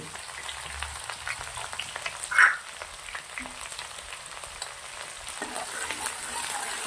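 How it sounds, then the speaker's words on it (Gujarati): Chopped onions sauté in oil in a pan for an ivy gourd masala pulao, giving a faint, continuous crackling sizzle close by with a few light utensil touches. "ડુંગળી સરસ મજાની તેલના અંદર સાંતળી લેવાની છે"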